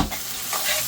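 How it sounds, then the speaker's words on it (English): Finely diced onion sautéing in oil in a pan, giving a steady close sizzle and fry that swells slightly near the end, with no voices. "Add enough oil to saute the onions"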